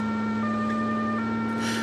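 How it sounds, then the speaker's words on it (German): A German fire engine's two-tone Martinshorn siren wails steadily through city streets, loud and sustained with a pitch change partway through, over low traffic rumble. "Die Feuerwehrwagen und der Einsatzwagen rasen mit Blaulicht und Martinshorn durch die Stadt."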